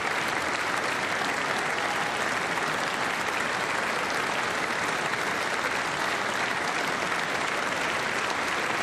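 Sustained, dense audience applause at the State of the Union fills the whole stretch at an even, steady level with no voices breaking through.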